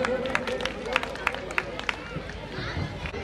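At a Holi celebration and award ceremony, an audience claps in a loose, scattered rhythm of distinct hand claps amid crowd murmur, fairly faint and fading into chatter.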